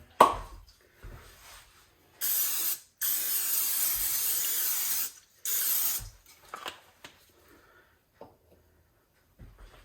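Cooking spray hisses onto a baking pan for rhubarb bread in two long bursts of roughly three seconds each, close and loud, with small knocks and handling sounds around them.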